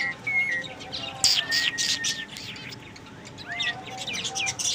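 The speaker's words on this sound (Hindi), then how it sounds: "इसको बुलबुल कहते हैं।" A pet red-vented bulbul chirps and whistles repeatedly nearby, with short bright calls and sliding notes scattered over low background noise.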